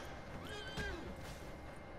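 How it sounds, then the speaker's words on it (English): A horse whinnies in the video game Red Dead Redemption 2, a single rising-and-falling neigh over steady game ambience with a faint thud partway through. "Oh my god, your horse just got ran over."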